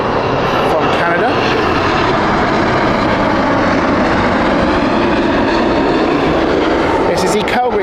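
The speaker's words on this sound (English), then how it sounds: "This is the Calgary flight of WestJet, operated by the 787-9." A WestJet Boeing 787-9 jet at Heathrow Airport gives a loud, continuous, broadband engine roar with no break, filling the whole stretch at close range.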